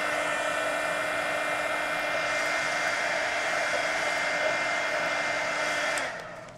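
A hair dryer blows steadily and loudly over cardstock mixed-media art cards, a constant whirring rush that cuts off abruptly near the end.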